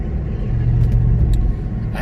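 Passing cars on an open road, heard from inside a car with its sunroof open, forming a steady broad roar of traffic and wind with no speech.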